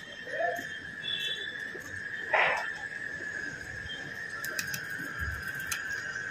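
A Sindhiya garra pigeon coos softly in a few low, brief calls over a steady high insect-like hum and faint background noise.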